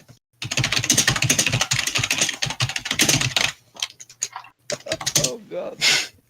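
Fast typing on a computer keyboard: dense rapid clacking bursts of keys up close, pausing and resuming in short flurries near the end, with a voice murmuring faintly underneath.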